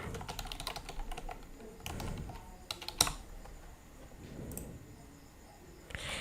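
Someone types steadily on a computer keyboard while filling in details for an Xbox account. The keys clatter close and continuously, with a few louder key strikes, and no one talks.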